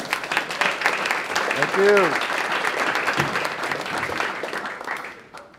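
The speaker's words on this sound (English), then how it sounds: "one more round of applause" Audience applause at a music mixing masterclass, a steady wash of clapping lasting several seconds before it fades, with a voice speaking over it.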